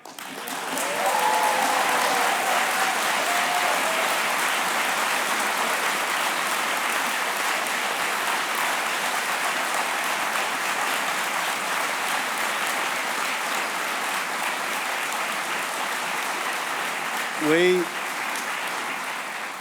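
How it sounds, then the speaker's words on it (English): A conference hall audience at a BMA meeting breaks into sustained clapping, loud and dense for the whole stretch, with a brief voice near the end. "You've got to stop clapping"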